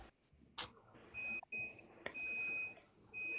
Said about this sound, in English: Sorry about my stove beeping.